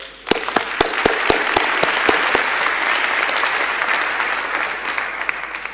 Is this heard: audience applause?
yes